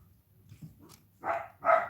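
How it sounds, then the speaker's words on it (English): A pet dog barks indoors in a home, two sharp, fairly close barks near the end after a few soft whimpering sounds, with no talking over it. "I don't know what he's barking at."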